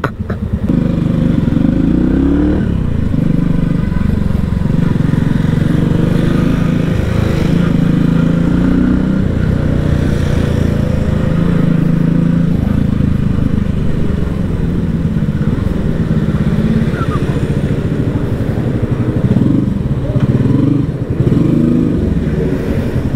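A motorcycle engine, a V-Blade, idles loudly and steadily up close for the whole stretch, with a rough throbbing drone, slight revs and occasional clatter, and no talk over it.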